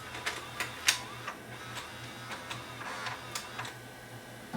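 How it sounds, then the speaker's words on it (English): A Sony SLV555 VCR loads a tape with a series of small mechanical clicks and ticks over a faint, regular motor hum, close and fairly quiet. "And load the tape."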